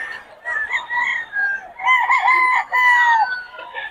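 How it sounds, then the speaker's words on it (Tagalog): A rooster crows repeatedly, two or three long calls close by, with faint clucking and little else in the background. "Lumalabas na yung mga manok niya."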